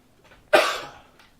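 A soft deep inhale is followed by a single strong, close cough during chest physiotherapy for congestion that fades quickly, then a faint breath afterward.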